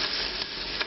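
Paprika sizzling hard in hot oil for red curry masala paste over high heat, a dense crackling fry close up with faint stirring, brief and continuous.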